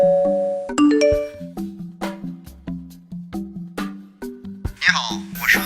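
Forrinx Wi-Fi doorbell chime plays a loud, close descending ding-dong melody of repeated bell tones, followed near the end by a brief voice.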